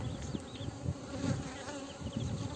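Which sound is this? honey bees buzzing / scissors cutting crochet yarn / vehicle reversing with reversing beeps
honey bees buzzing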